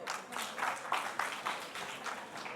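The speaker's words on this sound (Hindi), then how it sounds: "जोरदार तालियां।" An audience claps for a Hindi poetry performance, a faint, fairly distant patter of applause with loose rhythmic bursts.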